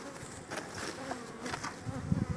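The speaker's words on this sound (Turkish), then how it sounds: "Bu teyze oğlunun arılarından bir arı ama agresifleşti yani" Honeybees buzz continuously and close by around a hive in Konya, a dense droning hum that rises and swells as an aggressive bee circles, with no voices.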